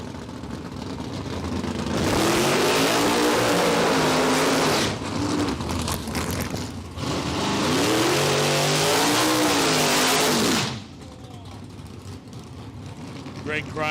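Outlaw nitro funny cars at a Palmyra Dragway drag race thunder through two long, deafening runs with rising and falling engine whines, a track announcer talking over the noise.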